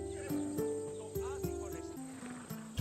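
A Macedonian battle horse in the game Assassin's Creed Odyssey gives a rising neigh and snorts, with hooves clip-clopping close by in an uneven rhythm while a voice talks over it.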